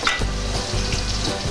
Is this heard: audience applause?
no